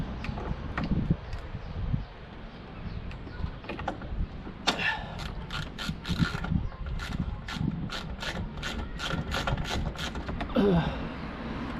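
A bolt being tightened while a car door handle is reinstalled, a steady run of ratchet clicks coming in close, evenly spaced bursts over a low background hum.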